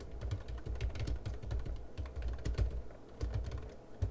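Quick bursts of keystrokes on a computer keyboard enter a git clone command into a terminal, close and fairly quiet, with uneven rhythm and short pauses between clusters of taps.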